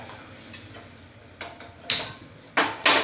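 A gas stove in a home kitchen being switched on: a series of sharp clicks and ticks from the knob and igniter, a couple of soft ones followed by louder bursts near the end, close and without speech.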